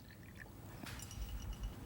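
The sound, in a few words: distilled water poured into a beaker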